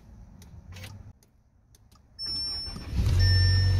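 A 2017 Audi A3 engine cranking and catching after a booster pack is hooked up, rising from quiet clicks into a loud, steady idle with a high electronic whine.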